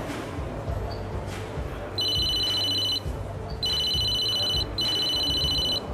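A mobile phone rings in short repeated electronic bursts, three rings separated by gaps, over a steady background hum.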